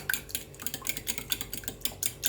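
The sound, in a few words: whisking baking soda and vinegar into yogurt in a bowl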